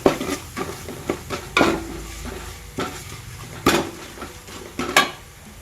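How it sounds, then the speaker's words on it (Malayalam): A spoon scrapes and knocks against a pot as chili powder is stirred into pineapple pickle, with repeated clinking strokes over a low sizzle, close and fairly loud. "മിക്സ് ചെയ്തെടുക്കുക."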